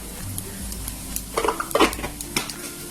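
Cumin seeds dropped into hot oil with asafoetida over a low flame give a soft crackling sizzle, joined by a few clinks and scrapes of a spoon against the pan, close and fairly quiet.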